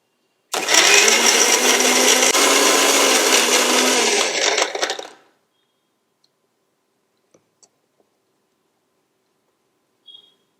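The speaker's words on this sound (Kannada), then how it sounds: "ಸೊ ಇದನ್ನ ಇವಾಗ ನಾವು ಮಿಕ್ಸಿ ಮಾಡ್ಕೊಳ್ಳೋಣ ಚೆನ್ನಾಗಿ ಕಂಪ್ಲೀಟ್ ಅದು ಸ್ಮೂತಿ ತರ ಆಗಬೇಕು" A mixer grinder whirs loudly and close for about four seconds, blending ingredients into a smoothie, then winds down and stops, leaving near silence with a couple of faint clicks.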